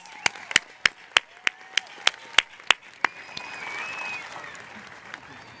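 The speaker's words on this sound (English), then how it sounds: "please join me with a round of applause for Dearborn High School's class of" A commencement crowd at a high school graduation applauds the class of 2016: about a dozen sharp, evenly spaced claps ring out close by, then fade into a softer, diffuse wash of applause and crowd noise.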